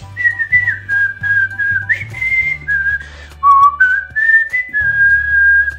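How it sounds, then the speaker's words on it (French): Someone whistles the melody from Disney's Robin Hood cartoon, a clear solo tune of held and gliding notes with short pauses between phrases and a soft low hum running underneath. "vous sifflez les mélodies du dessin animé de notre enfance de chez Disney"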